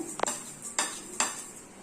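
Fenugreek seeds drop into hot oil for a Telugu tender tamarind-leaf chutney, giving three short crackling bursts with metal clinks between them, close and fairly quiet.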